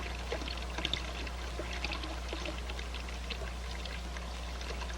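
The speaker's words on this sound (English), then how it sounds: "I'll reduce the volume flow at successive sections by bleeding water from the manifold." Water bleeding from a manifold in a fluid mechanics flow experiment makes a soft, continuous pouring trickle with faint splashy ticks over a steady low hum, quiet and unbroken throughout.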